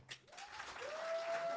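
A live audience at a podcast recording breaks into brief applause, a dense wash of clapping that swells and holds, with a faint whistle or voice rising through it.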